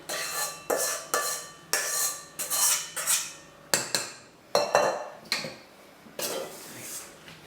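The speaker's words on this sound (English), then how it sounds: "So I'm going to add the balance of the egg whites and stir those through." Egg whites being stirred into chocolate cake batter in a bowl, heard as repeated clinking scrapes of a utensil against the dish in a steady rhythm of about a dozen strokes, close and fairly loud with no talk.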